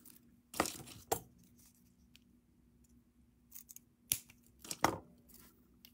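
Wire cutters snip the wire tail on a wire-wrapped chain necklace, producing a few sharp, isolated clicks spaced apart against a quiet background.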